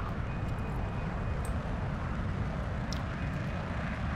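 Aircraft engine roar in the naval combat game Modern Warships, a steady broad rumble that holds level throughout with no gaps.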